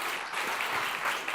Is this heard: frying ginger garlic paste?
no